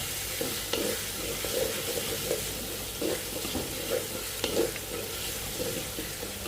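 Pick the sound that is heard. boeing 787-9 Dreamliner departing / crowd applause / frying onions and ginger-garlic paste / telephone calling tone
frying onions and ginger-garlic paste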